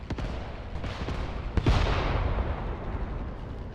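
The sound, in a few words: artillery guns firing in video game Mius Front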